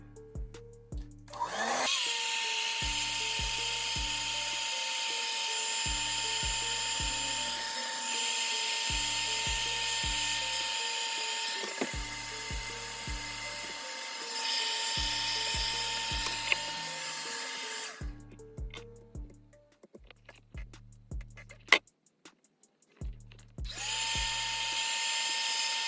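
A hair dryer on medium heat and low speed drying hair during a lace frontal wig install, a steady close whirring blow with a periodic pulsing rumble, switched off briefly near the end and then restarted.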